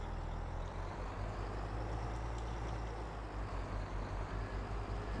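A modded Scania heavy truck from Farming Simulator 22 holds a low, steady diesel idle with a deep constant rumble, close and unbroken throughout.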